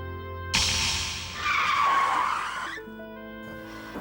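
A car with a flat tyre skids in a loud, harsh screech lasting about two seconds, swelling in the middle and then cutting off, over a soft musical background.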